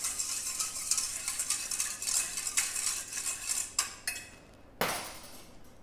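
A utensil stirs a hair oil mixture in a container, with light scraping and small clinks against the sides, fairly quiet and alone.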